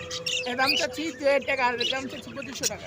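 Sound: pet birds chirping at a bird market

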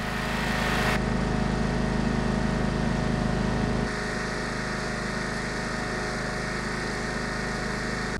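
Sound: riding lawnmower engine running

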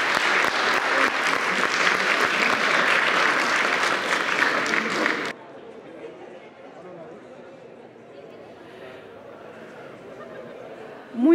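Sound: applause

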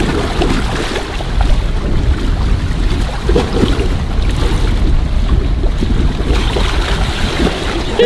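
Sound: ocean waves around a boat

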